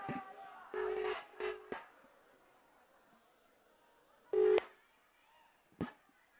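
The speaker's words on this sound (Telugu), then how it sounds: "రింగ్ అవుతుంది" A phone call rings out through a speaker, with a few separate electronic tone bursts spaced across the stretch and quiet gaps between them.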